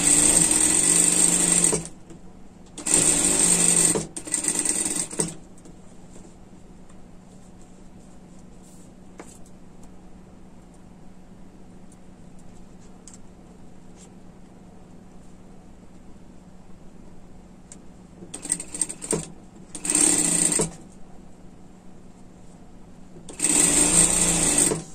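Sewing machine stitching a trim onto a sweater sleeve, in loud close bursts of a second or two at the start and end, with a long quiet stretch of faint handling noise between them.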